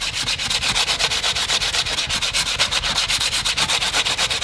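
A Quickblade paddle blade being sanded by hand with 80-grit paper to remove a nick, a close, brisk rhythmic scrubbing of quick regular back-and-forth strokes without pause and no talking.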